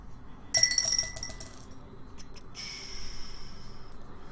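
Dice rattle and clatter briefly across a hard surface, rolled to pick teams during a 2016 Topps Gold Label baseball card case break, then a soft fading hiss.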